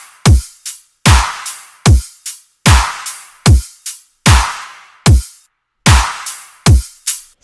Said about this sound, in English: altogether the drop drums sound like this.